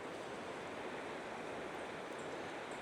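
A distant stream or waterfall in the Monteverde cloud forest of Costa Rica rushes below, a steady, broad, hissing wash of water heard faintly and continuously with no talk.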